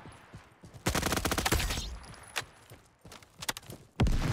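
An MP5 submachine gun fires in a free-to-play first-person shooter, letting off a dense, loud automatic burst and then a few scattered shots and thumps close by.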